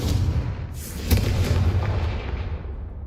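A Confringo blasting spell goes off in Hogwarts Legacy, a heavy booming explosion with a sharp burst near the middle and a rumbling, crackling tail that stays loud throughout.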